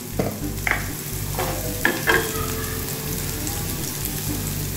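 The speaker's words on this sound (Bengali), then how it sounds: "এবার এতে দিয়ে দিচ্ছি 1 টুকরো কুমড়ো, ভাজবো এটা ভালো করে।" Pumpkin pieces with turmeric fry in a pan for a Bengali chutney, a steady close sizzle running throughout with a few sharp stirring scrapes early on and around the middle.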